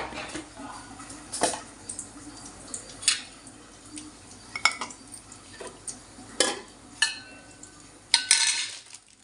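Dried red chillies and tempering spices fry in hot oil for a cucumber dal, a soft sizzle running under a series of clinks and scrapes from a spoon against the pan.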